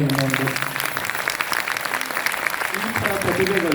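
A crowd at a devotional singing event applauds a young singer of Dasa songs, a dense, continuous wash of clapping close by, with a voice briefly heard at the start and end.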